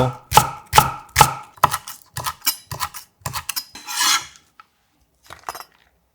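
Knife slicing a green onion diagonally on a cutting board: a quick series of crisp chops and rasping cuts that fades out, followed by a short faint clatter near the end.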